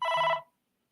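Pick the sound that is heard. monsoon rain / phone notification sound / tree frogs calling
phone notification sound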